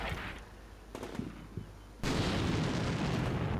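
Artillery fire mission in Combat Mission: Shock Force 2, distant thuds and cracks giving way to a loud sustained rumbling barrage.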